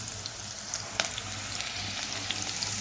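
Garlic and green chili frying gently in a pan over a low gas flame, a steady soft sizzle with a few faint crackles and spatters throughout, close and alone with no talking.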